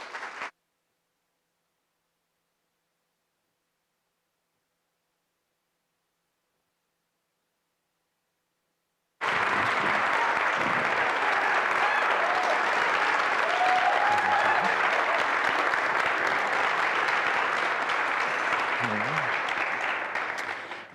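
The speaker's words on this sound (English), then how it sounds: "They're cheering for you" Audience at an evening event with Congressman Allred applauding and cheering in a sustained, dense roar lasting about twelve seconds, following a brief burst and a stretch of silence.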